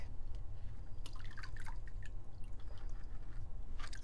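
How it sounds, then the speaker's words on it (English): Water poured into a pressure cooker holding soaked black-eyed peas, producing irregular splashing and dripping patter over a low background rumble, with no talking. "we're going to add the water as well as the turmeric"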